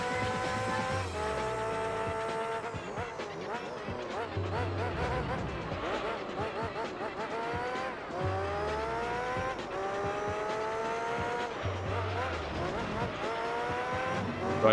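Formula GT race cars in Gran Turismo 3: A-Spec, a high-pitched engine whine rising and falling through repeated gear shifts, with lower revving cars nearby, continuous and loud over the whole stretch.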